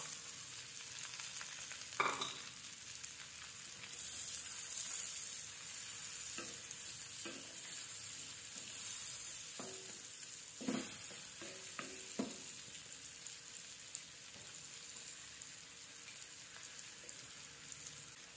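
Chopped onion frying in a pan gives a soft, steady sizzle while a utensil stirs and scrapes it in several distinct bursts.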